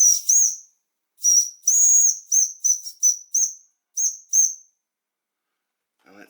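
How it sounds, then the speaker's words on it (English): Shrill whistle of a homemade TTB V2 toy stationary steam engine, heard as a series of nine short and longer toots with gaps between them, loud and close, followed by silence and a faint sound at the end. "Here's a toot for Whistle Man."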